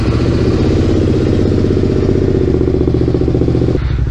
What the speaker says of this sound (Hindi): बाइक रेडी है, थोड़ा उसको एक कोल्ड स्टार्ट करते हैं।